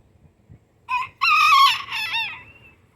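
Barred Rock and Easter Egger hens call out loudly in a backyard chicken yard, a couple of drawn-out, rising squawks close by over a quiet background.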